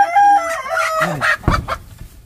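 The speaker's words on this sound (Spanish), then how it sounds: "Tenemos una gallina." A hen on a ranch clucks several times in short bursts, close and fairly loud, with no talking over it.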